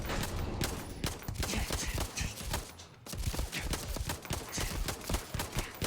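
Apollo 9 pistol fired in the video game Starfield, a rapid string of sharp gunshots sounding over and over across the clip, dense and fairly loud, with a brief pause near the middle.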